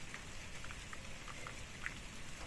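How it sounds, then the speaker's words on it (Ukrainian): Light rain pattering on a windowsill, a faint, steady hiss with scattered soft drops tapping irregularly, calm and without voices. "Чую, щось таке по підвіконні ляпотить. А, дощик."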